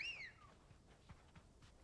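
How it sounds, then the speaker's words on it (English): A single rising-then-falling whistle calls a mount in Final Fantasy XVI. It is short and clear at the start, then gives way to quiet game ambience. "Did you have to whistle for her like that?"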